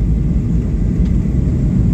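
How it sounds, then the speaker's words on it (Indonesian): A passenger airplane touching down and rolling out at Yogyakarta International Airport in Kulon Progo, heard from inside as a loud, steady, low engine rumble with no talk. "Alhamdulillah, pesawat sudah mendarat dengan selamat"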